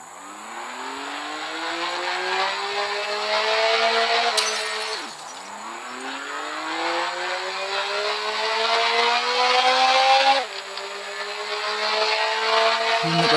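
Simulated motorcycle engine from a driving video game, loud and continuous, rising in pitch through the gears with two sharp drops at shifts, and a faint glassy clatter on top, with no voices.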